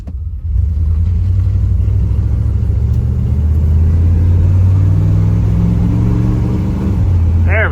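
A Chevy GMT400 truck engine runs steadily while the truck is driven, with a loud continuous low rumble that rises and shifts as it moves through the gears, close and without pause.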